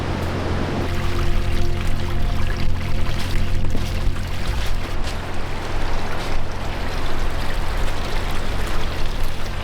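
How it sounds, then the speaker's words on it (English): A small freshwater stream runs across a tropical beach into the ocean, a steady, close rushing and pouring of water with surf behind it and no talking. "So this is a little freshwater stream running into the ocean"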